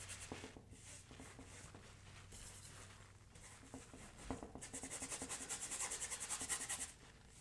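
A paint brush scrubs an oil glaze onto a painting, giving soft close rubbing strokes that speed up into a quick rhythmic scrubbing burst near the end, with no voices.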